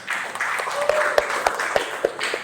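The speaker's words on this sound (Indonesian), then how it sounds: "Tepuk tangan dulu." A group claps in rhythmic unison, steady beats roughly every third of a second over a wash of scattered applause and murmuring voices.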